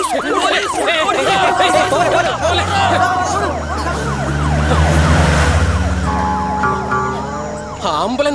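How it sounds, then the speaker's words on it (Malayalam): An ambulance siren wails loudly in sweeping, repeated rising and falling tones as it passes close by, over a babble of crowd voices. "ആംബുലൻസ് ആടാ."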